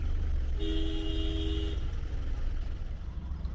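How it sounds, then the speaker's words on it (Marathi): Heavy road traffic jammed near the Porvorim bridge works: a low engine rumble runs throughout, and a single car horn honks in a steady held tone for about a second early on, standing out above the drone. "बघा किती ट्रॅफिक आहे बघा"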